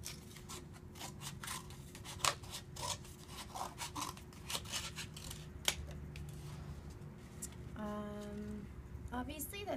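Adult scissors cut through heavy-duty paper plates in a series of quiet, close snips and rasping crunches, with a brief voice near the end.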